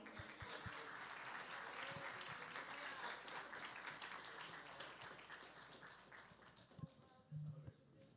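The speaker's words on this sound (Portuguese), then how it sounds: "Vamos receber o pastor aplaudindo." A church congregation applauds as a pastor steps up at a family conference, steady dense clapping filling the room for several seconds, then thinning out near the end.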